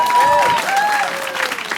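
A stand-up comedy crowd applauds during a short applause break. The brief burst of clapping runs under a voice that is talking over it.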